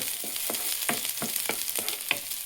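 Vegetables sautéing in a pan give a steady close sizzle, broken by roughly regular scraping stir strokes about every half second, with no voices.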